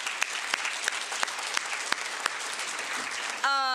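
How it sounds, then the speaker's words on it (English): Audience at a rising sophomore awards ceremony applauds the nominees, a steady wash of clapping with a few sharper nearby claps, ending in a brief tonal electronic sound. "Can we give them all another round of applause?"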